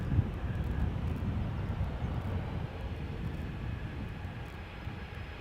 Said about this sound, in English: KLM Flight 1295 and Boeing 737-700.